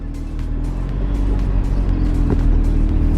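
An Audi TT's engine pulls away from a wet car park in light rain, a steady low drone that swells slightly as the car gets moving, loud and close from inside the car.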